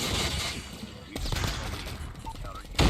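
Bursts of GKS submachine gun hip fire in COD Mobile, rapid game gunshots crackling over a steady background, with a short loud burst at the end.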